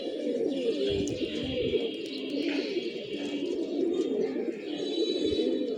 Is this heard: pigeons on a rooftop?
yes